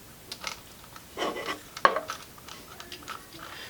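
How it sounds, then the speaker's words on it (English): A plastic retainer ring is screwed by hand onto an arcade button, giving faint close-up scraping, clicking threads and a small sharp tap amid quiet handling. "She's got a retainer ring that screws right on nice and easy."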